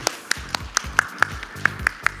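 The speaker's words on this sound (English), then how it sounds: "Let's have one more round of applause for both of them." Sharp, evenly spaced claps ring out about every quarter second, a single steady clapping rhythm heard close up during a conference, rather than broad crowd applause.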